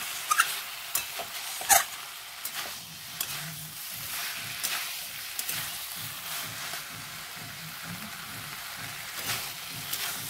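Spice paste fries in oil in a pan with pumpkin and potato for a Bengali pui saag dish, giving a soft continuous sizzle broken by scraping stirs and a few sharp clinks, close and fairly quiet with no talk.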